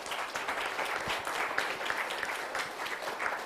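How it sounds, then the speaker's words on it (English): A big round of applause from the audience at an innovation and startup ecosystem panel discussion, dense and continuous clapping from many people filling the whole stretch at an even level. "let us give a big round of applause."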